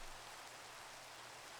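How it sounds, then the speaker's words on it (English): Steady rain falling in Minecraft, a soft continuous hiss of fine drops that holds evenly and faintly throughout with no voices over it. "And it starts raining."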